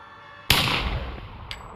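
A single loud gunshot from a revolver in a VR Russian roulette game, a sharp blast with a decaying ring, then a faint metallic click.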